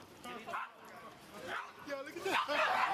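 Dogs bark and yip in short bursts on a Harlem street as a bodega cat charges at them, with people talking over the commotion.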